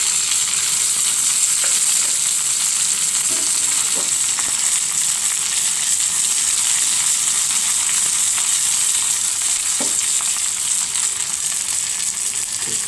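Curry leaves, red chillies and coriander leaves frying in hot oil for a tempering give a steady, loud, close sizzle with small crackles, continuing unbroken with no voices.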